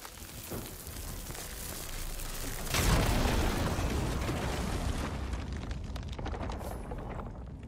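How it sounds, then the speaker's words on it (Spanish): A fulgorite explosion in the video game Horizon Forbidden West bursts into a heavy, rumbling blast that swells loudly then slowly fades over several seconds. "esta gente va a venir en cuanto escuche la explosión de la fulgorita"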